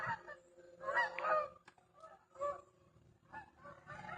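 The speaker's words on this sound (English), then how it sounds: "Look at the geese." Geese honking outdoors on an autumn morning, a series of nasal honks in uneven bursts, moderately distant and fairly faint.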